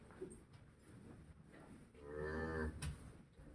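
A cow in labour on a farm lets out a drawn-out, mournful moo that swells midway, faint and close, with quiet barn background around it.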